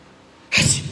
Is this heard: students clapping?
no